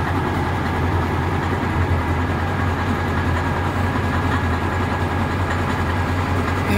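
An old truck idles with a steady, close, low rumble from its exhaust, unbroken and even throughout, with no voices.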